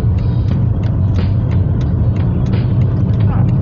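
A 2002 Mercedes-Benz C-Class, rear-wheel drive, overtakes on the road, heard from inside as a steady, loud engine and road rumble throughout with faint ticking on top.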